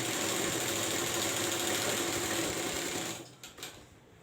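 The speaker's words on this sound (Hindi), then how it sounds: "एक साथ में ऐसा सिलाई मार देगा, उल्टा साइड में" A sewing machine stitches a doubled layer of fabric for a jumpsuit, running as a steady close mechanical whir with rapid needle chatter for about three seconds, then slowing and stopping with a few clicks.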